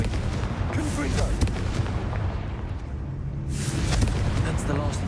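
A Confringo fire spell blast in Hogwarts Legacy, a sustained roaring, crackling burst that holds steady at full loudness with a surge near the end.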